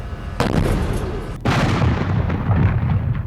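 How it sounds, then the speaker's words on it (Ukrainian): Explosions in Ukrainian cities during the Russian invasion, heard as two heavy booming blasts that set off long rumbling, crackling roars which fill the space, loud and sustained with no talk. "В українських містах чутно знову вибухи."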